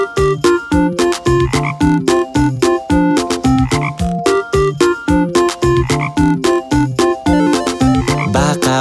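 Frog croaks in a steady, rhythmic series of loud, close, repeated pulses that continue without pause and quicken into a rapid rattling burst near the end.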